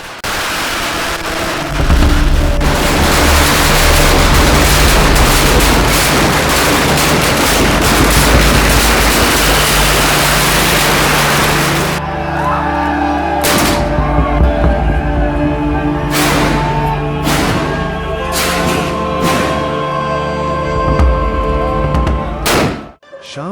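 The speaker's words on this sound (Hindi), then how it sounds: "शाम 7 बजे से ही पटाखों और बंदूकों की गूंज शुरू हो जाती है।" Loud dense crackling and booming bursts from guns and firecrackers at a Holi festival in Menar fill the first half, followed by scattered sharp bangs and pops against a rumbling background.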